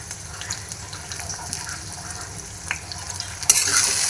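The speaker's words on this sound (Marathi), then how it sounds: "हे जरासं असं फ्राय करून घेऊया." Chopped tomato and curry leaves frying with browned onion in a pan, a soft steady sizzle with light stirring scrapes and a brighter burst of hissing near the end.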